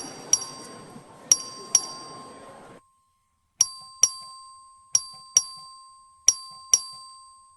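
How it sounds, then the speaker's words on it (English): A bell rings in paired chimes, a pair every second or so with a pause partway through, each strike ringing out clear and bright before the next. "The clerk ring the bell."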